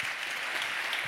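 An audience applauds a round-table panel at a conference, a brief, dense wash of steady clapping with no talk.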